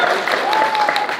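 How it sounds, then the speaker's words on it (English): A convention panel audience at Star Wars Celebration 2022 gives a dense, steady round of applause during a collectibles panel, with a voice talking over the clapping. "round of applause"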